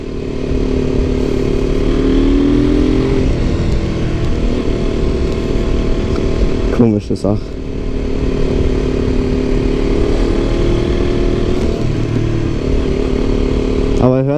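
A KTM RC 125 motorcycle fitted with a Radical Racing exhaust runs close by with a raspy, buzzing single-cylinder drone, dipping briefly midway before climbing again, while a rider speaks over it.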